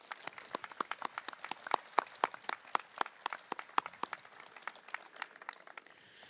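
An audience applauds at a community college commencement, scattered sharp claps ringing in a large hall, fairly faint and distant, thinning out toward the end.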